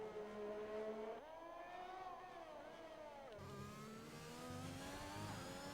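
An Alpine Formula-style race car in a racing video game crossing the line, its high engine whine sweeping up and down through gear changes, steady and fairly near, with no talk.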